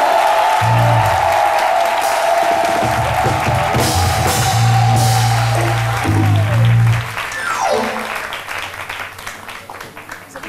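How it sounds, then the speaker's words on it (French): Studio audience applause on a live Ivorian midday TV variety show, a dense, loud, sustained clapping that runs for about seven seconds over a steady musical tone, then thins and fades toward the end. "Permettez-moi, avec vos applaudissements"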